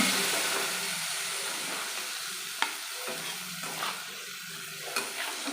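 Spices sauté with banana stem and potatoes in a pan, giving a steady hiss and sizzle broken by a few sharp scrapes of a spoon against the pan.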